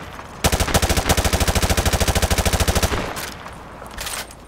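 Rapid automatic gunfire in Call of Duty: Modern Warfare 2, shooting through light cover at a training range: a loud, even, steady burst of evenly spaced shots lasting about two and a half seconds, followed by fainter trailing noise.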